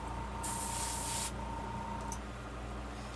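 A single short burst of airbrush spray, roughly a second long, lays paint onto a fishing lure, bright and hissing up close over a steady hum of background noise, with a faint tick afterward and no one talking.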